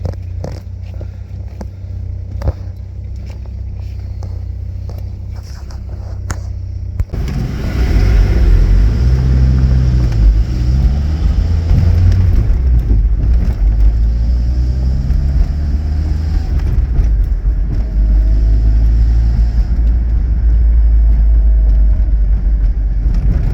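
An old car's engine running while driving, a quiet idle-like rumble with small clicks that turns into a louder, rougher rumble and rattle as it gets under way, with no speech.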